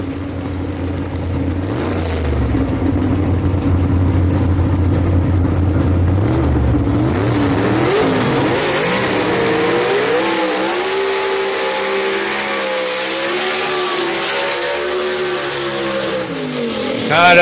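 A gasser drag car in the Youngblood entry lifts its front wheels at launch and roars away down the Shadyside Dragway strip, a loud engine note climbing in pitch as it accelerates and fades, with announcer commentary over it.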